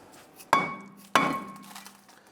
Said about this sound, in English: Sometimes there's a little bit of rust holding that in place. Just give it a few bonks and go ahead and set that aside.